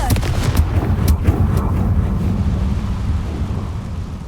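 A Confringo fire spell explodes in the Hogwarts Legacy game during San Bakar's Trial, a sequence of loud cracking blasts early on that give way to a rumbling, fading roar.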